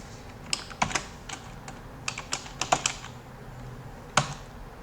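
Typing on a computer keyboard, close and clear: short irregular bursts of key clicks with pauses between, ending in a single sharp tap.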